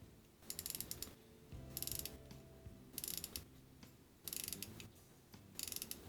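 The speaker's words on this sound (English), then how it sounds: "the ratcheting system is what's making that noise as you wind up that mainspring" Winding the crown of a Cimier Petite Seconde watch with a non-hacking movement: quiet, close ratchet clicking in quick bursts of fine ticks, repeated several times with short pauses between turns, no talk.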